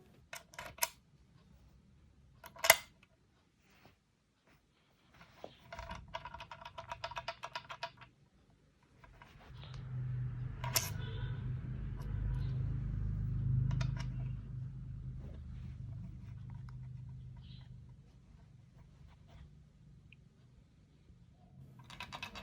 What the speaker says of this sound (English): the USB dongle stored inside the keyboard, it rattles when the keyboard is shaken, as demonstrated here